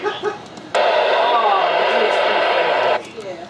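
Many NOAA weather radios sounding an alert at once, a loud blaring burst that starts abruptly, holds steady for about two seconds and cuts off just as suddenly, with quieter sounds before and after.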